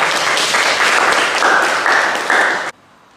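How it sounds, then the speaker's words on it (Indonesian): Classroom applause, a steady burst of many hands clapping loudly for about two and a half seconds, then stopping abruptly into near silence. "Tepuk tangan buat Dimas."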